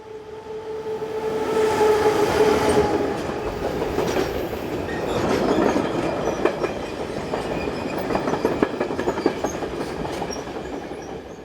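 A Swiss Re 6/6 Class 620 electric locomotive passes through Lugano, rising to a loud rumble with a brief tonal whine early on, then rhythmic clicking of wheels over rail joints as it glides by.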